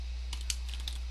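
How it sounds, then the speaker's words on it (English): A computer keyboard being typed on, with a few quick, light keystroke clicks in a short burst over a low steady hum, close but quiet. "my typing is bad"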